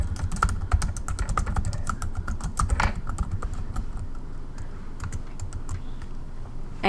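Keys clatter on a computer keyboard as a question is typed into a library's online chat window, a rapid, uneven run of close, crisp clicks continuing throughout with no voices.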